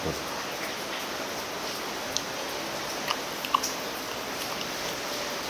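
Steady rain falls through a quiet night, a soft continuous hiss with a few faint, brief clicks and ticks on top and no talking.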